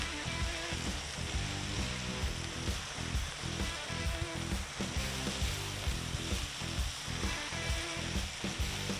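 Bacon strips sizzle in a hot pan for a patty melt, a dense steady crackle of frying fat with constant popping, close and loud with no talk over it.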